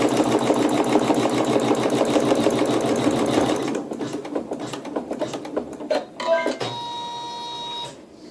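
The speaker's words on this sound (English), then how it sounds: "I still have a nice slow speed on my machine just so that I can keep ahead of where it's going to stitch" A sewing machine runs at a slow, steady speed while stitching a quilt section, its needle rattling evenly and close up before stopping, followed by a few soft handling clicks and a faint high whine.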